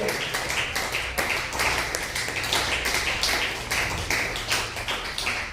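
A church congregation claps together at a Spanish-language worship service, a dense, steady wash of many hands sustained for several seconds with a low hum of voices beneath.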